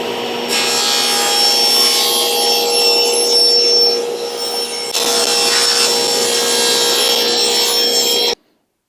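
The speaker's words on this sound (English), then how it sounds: "I just find I get better edges on the table saw than I do on my jointer." A table saw rips loudly along the edge of a white oak plywood sheet, the steady cutting whine running alone for several seconds, briefly dipping mid-pass, then stopping abruptly.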